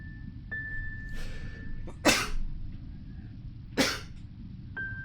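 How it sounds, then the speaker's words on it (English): A single sharp sneeze bursts out, followed a moment later by a second sneeze, both close and loud over a steady low room hum, with faint tones in the background. "I'm about to sneeze."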